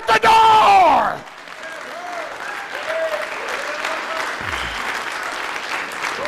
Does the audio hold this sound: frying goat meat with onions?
no